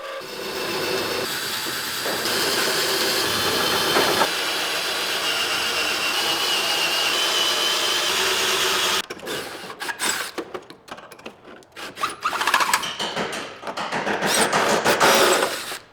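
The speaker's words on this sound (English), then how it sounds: "Time to grab your drill, 6mm drill bit, and drill through the bracket." A drill with a 6mm bit grinds continuously through a metal bracket on a Lotus Elise for several seconds, then breaks into choppy, uneven bursts of whirring and metallic scraping, loud and close.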